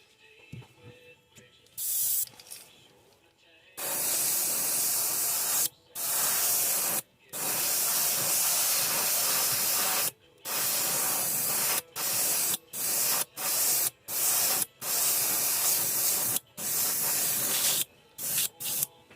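Candy paint from an airbrush sprays onto crackle craw crankbait fishing lures in short and long bursts of hissing airflow, broken by brief pauses, close and fairly quiet.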